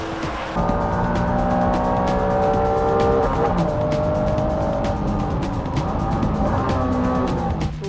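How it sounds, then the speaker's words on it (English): A Honda NSX-R and a Dodge Viper race on a track, their engines loud and close with rising and falling revs through gear changes and some tire squeal, no talk. "Next in front is the 400 pony American monster, the Dodge Viper."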